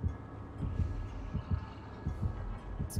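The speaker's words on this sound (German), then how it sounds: "Herzschlag." The heartbeat warning in the horror game Dead by Daylight thumps in a steady, deep double-beat rhythm, about four or five low pulses, throbbing alone over a faint hum.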